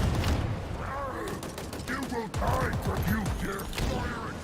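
Rockets firing in a game, a rapid, dense stream of crackling, mechanical bursts mixed with a voice talking over them.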